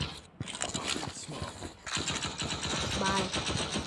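Rapid bursts of video game gunfire rattle on continuously, fairly loud and dense, with a voice speaking over parts of it.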